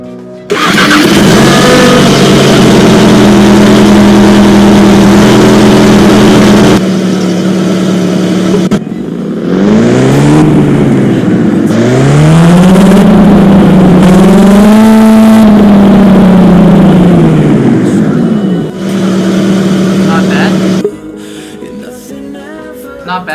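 A virtual Audi four-cylinder hatchback in Roblox Driving Empire starts up, idles loud and close, then revs in several rising and falling sweeps before settling back to idle, with no talking.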